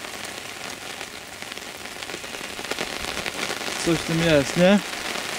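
Heavy autumn rain pours steadily onto a riverbank during feeder fishing, a dense close hiss of drops throughout, with someone speaking briefly near the end.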